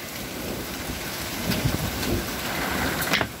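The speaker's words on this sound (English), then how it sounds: "Look at the hail." Hail and heavy rain pour down during a thunderstorm, a dense, constant hiss of hits with scattered louder pings and patters, close and steady throughout.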